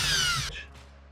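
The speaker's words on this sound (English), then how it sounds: "I'm just about to drill the holes so I can peel them" A power drill bores holes in a papier-mâché fishing lure, giving a brief loud high whine that cuts off abruptly and leaves a fading hum, close up with no talk.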